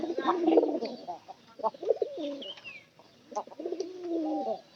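A pigeon coos repeatedly at close range in soft, throaty rolling phrases with short pauses between, fairly quiet and without talk.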